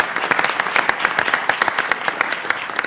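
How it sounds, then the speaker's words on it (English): A seated audience at a city council candidate forum applauds the candidates, a crisp, steady burst of many hands clapping that continues evenly throughout, with no talking over it. "Let's give our candidates one last round of applause."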